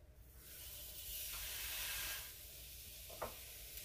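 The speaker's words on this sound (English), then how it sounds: "you're gonna cook your sausage" Sausage sizzles in a pan over medium heat, a faint steady hiss that swells and eases with a small pop near the end, no talking.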